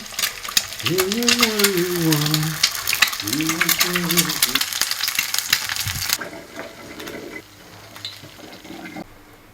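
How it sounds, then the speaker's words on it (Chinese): An egg fries in a pan with a loud, busy sizzle while a voice sounds over it; after about six seconds the frying drops away to quieter room noise. "蛋煎好了"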